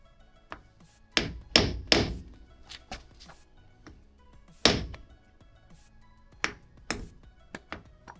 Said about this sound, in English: I'm just going to gently get it started by tapping that around